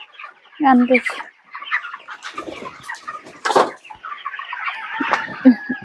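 Broiler chickens about 27 days old cluck and squawk in a poultry farm shed, a dense flock of close, irregular calls overlapping throughout, with a few louder squawks standing out.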